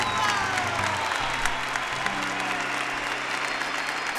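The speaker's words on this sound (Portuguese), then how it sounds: "Mais um aplauso" A church congregation at a Catholic Mass led by Padre Fábio de Melo bursts into sustained, dense applause, loud and even throughout.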